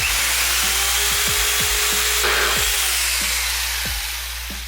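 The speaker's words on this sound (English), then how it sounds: "This is such a skinny little cut. I think I'm gonna just go ahead and do it with the jigsaw." A jigsaw makes a short, narrow cut in wood, a steady broadband buzz of blade strokes with intermittent knocks and clicks, close and fairly loud, trailing off slightly at the end.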